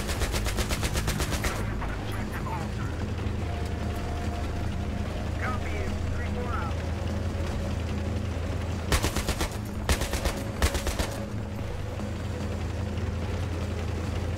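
Battlefield 3 warfare: sustained rapid machine-gun bursts at the start, then steady combat rumble and a cluster of loud, sharp automatic volleys near the end, with voices talking over the action.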